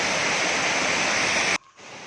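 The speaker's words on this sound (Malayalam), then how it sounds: "അതിലേറ്റവും ഭംഗിയുള്ള വെള്ളച്ചാട്ടം ഈ പേരൂർക്കുറ്റി വെള്ളച്ചാട്ടം തന്നെയാണ്." Perurkutty waterfall pours as a dense, continuous hiss of falling water, close and loud, cutting off abruptly to a much quieter background near the end.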